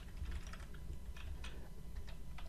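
Computer keyboard keys tapped in quick irregular bursts while a command is entered into an SAP system, close and fairly quiet, with no talking.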